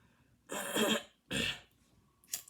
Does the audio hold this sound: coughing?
yes